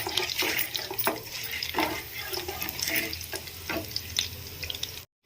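Crushed garlic and a broken dried red chili sizzle in hot oil in a pan, a steady hissing crackle marked by a few sharper pops and scrapes, close and moderately quiet, cutting off abruptly at the end.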